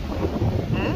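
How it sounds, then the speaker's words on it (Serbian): Wind blows outdoors near grass, buffeting the microphone with a brief, steady, rumbling gust. "Zašla se od vetra možda"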